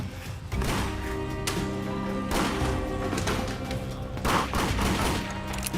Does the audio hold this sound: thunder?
no